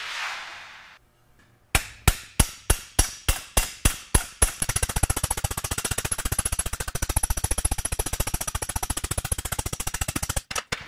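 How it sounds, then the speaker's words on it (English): Metal hammer blows on a copper sheet joint worked with a hammer and dolly: about ten spaced ringing strikes, then a fast, even run of lighter taps, close and loud. "I'm going to work this joint with a hammer and dolly to get the final smoothness."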